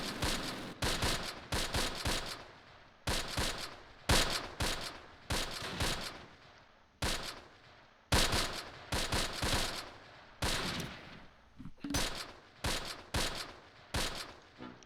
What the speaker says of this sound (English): MG fire, that's a problem.